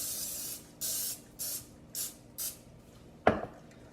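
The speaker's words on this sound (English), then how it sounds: "you're going to go ahead and spray your muffin tin." Cooking spray hissing onto a muffin tin in five short, even bursts, followed by a sharp knock of the metal tin, close and clear with no talking.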